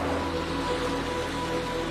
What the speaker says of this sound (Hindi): अब एक विशाल और तेज नदी इस गुफा के बीच से बह रही है।